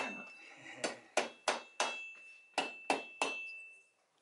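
A hammer taps repeatedly on the cylinder head of a BMW R60/5 motorcycle during a top-end teardown, about eight sharp ringing knocks at an uneven steady pace, close and clear with a faint tonal hum behind.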